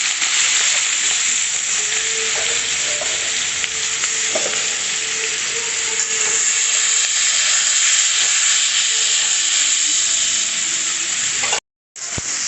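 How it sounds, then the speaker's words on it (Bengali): Prawns sizzle steadily in hot mustard oil for prawn malai curry, a loud continuous frying hiss with faint stirring clinks, cut off by a brief silence near the end. "চিংড়ি মাছগুলোকে একটুখানি ভেজে নেব। সর্ষের তেলেই মালাইকারিটা করব।"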